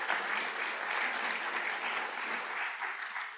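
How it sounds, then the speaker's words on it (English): Audience applause fills the room, a dense, steady wash of clapping hands from a crowd that holds constant for a few seconds before easing slightly. "Please give a warm round of applause"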